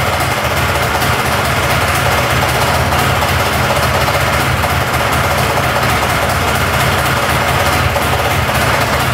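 A 6x6 ATV engine idling, a loud, steady, close low rumble with a faint mechanical rattle running evenly throughout, heard alone without talk.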